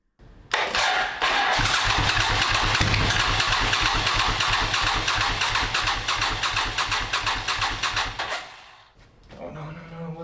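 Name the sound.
Suzuki Intruder 1400 motorcycle engine starting after five years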